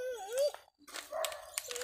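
A dog whines and whimpers at night in a garden setting, with rising and falling cries near at hand, broken by a short pause and faint background noise.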